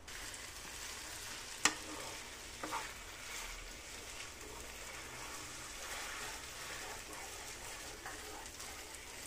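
Washed rice stirred into softened mixed vegetables in a hot pan for pulao, a soft steady sizzle with one sharp utensil knock and a few light scrapes, fairly faint and without talk.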